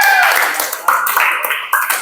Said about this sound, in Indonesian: beri hadiah tepuk tangan.